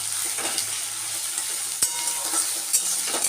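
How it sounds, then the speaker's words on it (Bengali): Sliced onions frying in hot oil in a pan until browned and crisp for biryani, a steady soft sizzle broken by occasional stirring scrapes and sharp clicks of a utensil against the pan. "এখন এদিকে পেঁয়াজ বেরেস্তাটা করে নেব"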